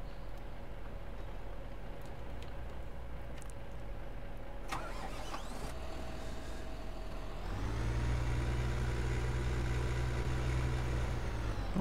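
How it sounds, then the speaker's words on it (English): A tractor engine in the Thornton Farm game idles with a low hum, then starts up about two-thirds through and settles into a louder, rougher mid-pitched running drone. "I'm gonna have to move that tractor out of the way now"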